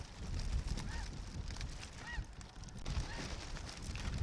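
Snow geese honk at dawn in Canada, several faint distant calls in short clusters over a steady rumbling wind and background noise.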